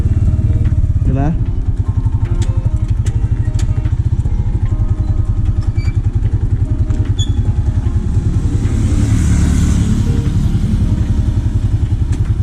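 A manual motorcycle's engine runs loud and close, its steady, throbbing pulse continuing without a break while the clutch is eased out.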